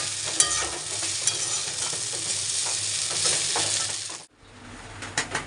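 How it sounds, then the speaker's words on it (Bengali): Food seasoned with salt and turmeric fries in a pan and is stirred constantly, with a dense, loud sizzle and repeated scraping and tapping of a spatula. The frying cuts off sharply, and a few quieter clinks follow. "একটু ভাজা ভাজা হোক"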